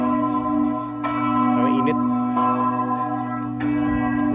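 A huge cathedral bell in Portugal tolls with several deep, resonant strikes about a second apart, each ringing out in a long humming decay, and a person speaks briefly over it.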